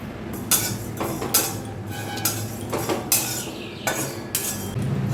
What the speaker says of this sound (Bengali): এক মিনিট ভেজে নিলাম, পটপট আওয়াজ হচ্ছে, মানে ফাটছে